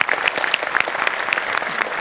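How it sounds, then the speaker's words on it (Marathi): Loud applause and cheering from a studio audience for a performer at a Marathi comedy show, brisk dense clapping with sharp individual claps and a few whistles, continuing evenly throughout. "जोरदार टाळ्या तिच्यासाठी"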